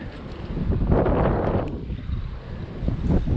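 Wind blows across a pond while bass fishing from the bank in early spring, a steady rushing rumble of microphone buffeting that swells briefly and then eases.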